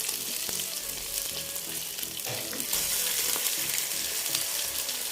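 A fish fillet sizzling in a pan just after being turned, a close, steady hiss of hot oil with occasional small pops and soft scrapes from silicone tongs.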